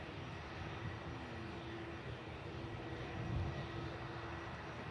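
An EasyJet airliner departs Manchester Airport, heard as a faint, distant, steady jet roar that swells slightly toward the end.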